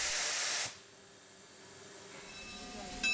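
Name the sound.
steam locomotive hissing steam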